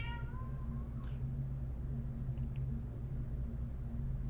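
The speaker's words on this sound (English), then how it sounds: "Hear my cat being super cute." A house cat gives a single short, rising meow near the start, followed by a faint chirp, over a steady low indoor hum.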